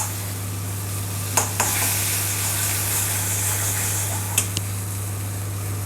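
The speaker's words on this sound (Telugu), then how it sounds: "మన హోమ్ మేడ్ బటర్లో హోమ్ మేడ్ పన్నీర్ని వేయించుకుందాము" Homemade paneer frying in homemade butter, a steady even hiss of sizzling fat over a low hum, broken by two or three brief spatula taps.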